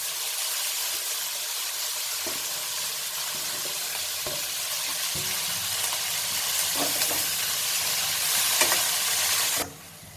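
Onion, tomato and mint frying in a pan give a steady, close sizzle and hiss, with occasional soft stirring scrapes, then the sizzle drops sharply near the end.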